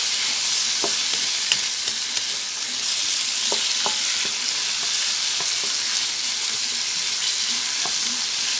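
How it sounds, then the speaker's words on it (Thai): Bitter gourd stir-fries in a pan under a loud, continuous sizzling hiss, with small scattered clicks and scrapes from the spatula throughout, close and steady with no speech. "พัดพ ัดให้ส่วนผสมเข้ากันดี"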